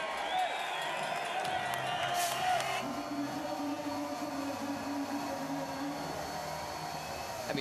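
Crowd cheering and roaring at a timbersports team world championship, a broad continuous wash of voices from a large audience, loud and sustained throughout.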